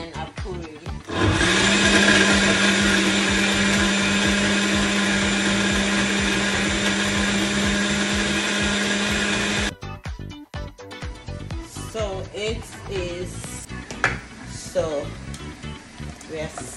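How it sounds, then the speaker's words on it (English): A kitchen blender whirs loudly and steadily as it blends ingredients with plenty of water, then cuts off abruptly, followed by clattering kitchen sounds and a voice talking. "So you guys, you see the plenty of water I've added. You just blend."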